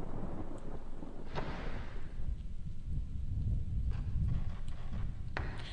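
Thunder rumbles low and continuous with faint rain in the horror video game Fatal Frame 2: Crimson Butterfly, a quiet, distant-sounding storm with no talking.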